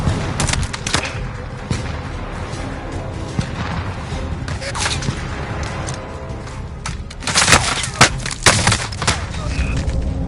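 Bursts of gunfire in the video game Warzone, scattered shots and rapid volleys rising to a dense flurry near the end, with a voice speaking in between.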